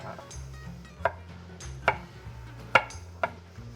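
Garlic being coarsely chopped with a knife on a board while pasta with spinach and sun-dried tomatoes is prepared: four sharp, separate knife strikes spaced unevenly, close and clear over a low background hum.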